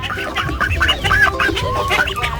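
Chickens on a dairy farm in Ratchaburi clucking busily while being fed, with a dense, overlapping stream of close clucks and squawks.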